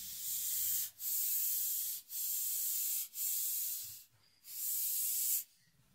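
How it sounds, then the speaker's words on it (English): Minwax clear satin polyurethane spray is applied to a wooden coat rack in five sharp, hissing bursts, each about a second long with short pauses between and the last burst slightly longer. "put on a coat or two of this polyurethane spray by Minwax"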